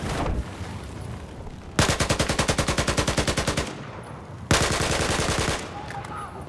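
Rapid automatic gunfire from a Battlefield 4 firefight on PC comes in two loud, close bursts of evenly spaced shots, the first longer, with faint game ambience between them.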